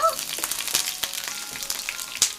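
Green onion sizzling and crackling in hot oil in a pan while being stir-fried, a steady close frying hiss with scattered sharp pops and light stirring clicks.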